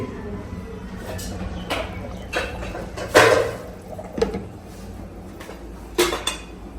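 Plates and utensils clatter in a home kitchen during iftar cooking, with a few sharp metallic clinks standing out over a steady low background hum, no voices heard.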